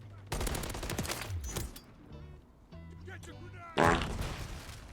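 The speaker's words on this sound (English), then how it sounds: "That grenade just came out of nowhere" A grenade explodes in the Modern Warfare 3 game, a loud burst near the end following a flurry of gunfire and game noise while a voice talks over it.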